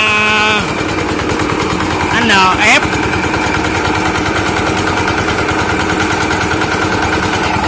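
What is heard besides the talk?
engine of a mini vibratory road roller running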